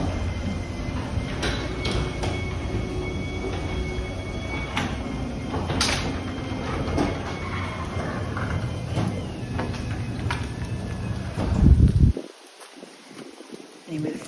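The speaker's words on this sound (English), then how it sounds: "open the door" A house door from the garage to the outside rolls or slides open with a rumbling scrape and a few clicks, then the noise drops away sharply near the end; a voice speaks faintly underneath.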